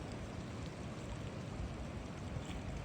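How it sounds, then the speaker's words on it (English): Strong wind buffets a kayak on choppy lake water, giving a steady loud roar of gusts mixed with the wash and slap of waves, continuous and close with no talking. "that wind is just cutting way worse on that side than it is on this side"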